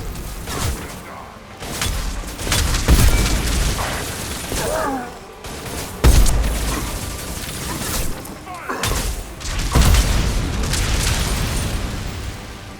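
Grenade explosions in Mass Effect 2: several sharp, loud blasts spaced a few seconds apart, each with a heavy low thump and crackling debris amid ongoing combat noise.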